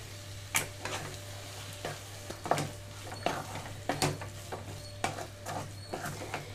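A spoon stirs potato fry with green chilli masala and sprinkled coriander in a pan, giving soft irregular scraping strokes over a faint steady sizzle and a low stove hum.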